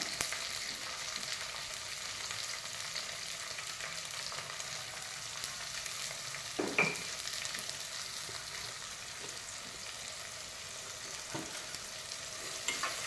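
Tomatoes and onions sautéing in a pan for an Onam recipe give a steady, even sizzle throughout, with a couple of brief scrapes of stirring and no talking.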